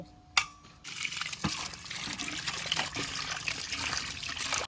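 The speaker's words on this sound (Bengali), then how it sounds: "মাছগুলো জল দিয়ে ভালো করে ধুয়ে নিয়েছি" Water trickling and splashing as cut pieces of boal fish are rinsed, soft continuous running water with small clinks of vessels, fairly close and gentle.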